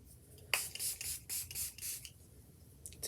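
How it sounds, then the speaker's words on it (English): A quick series of short, airy spritzes from a Milani Make It Last makeup setting spray bottle, about half a dozen bursts in a row, fairly quiet and close. "I use, here it is, the Milani Make It Last Original 16-Hour Wear Spray."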